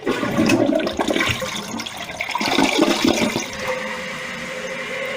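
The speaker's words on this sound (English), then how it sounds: "let's try a small flush" A dual flush toilet does a small flush close by, a short rushing gurgle of water that swirls, then settles into a quieter trickle as the tank refills.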